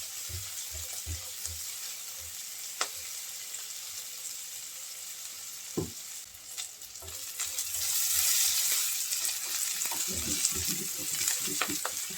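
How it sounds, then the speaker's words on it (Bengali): Onions lightly frying in a pan with salt added, a steady high sizzle throughout with occasional stirring knocks and scrapes, swelling louder near the end; no one speaks. "পেঁয়াজটা আমি হালকা একটু ভেজে নেবো"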